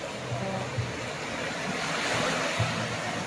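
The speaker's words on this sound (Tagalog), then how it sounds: "Maalon lang talaga ngayon." Rough sea surf breaking on a long Philippine beach, a steady loud wash of churning waves with gusty wind noise across the microphone and no voices.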